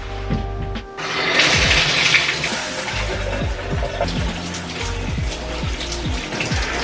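Shower water running steadily in a bathroom, a close, continuous rushing spray with faint splashing and low thumps underneath.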